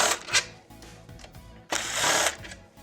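Screws being backed out of the top fan on a Bitmain Antminer S9 crypto miner during teardown, giving close, uneven mechanical whirring and scraping bursts with a louder stretch near the end and no talk.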